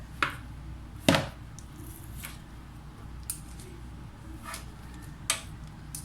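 A teaspoon scooping and dropping cookie dough onto a baking tray, several sparse sharp clicks and taps spaced a second or two apart over a quiet kitchen background.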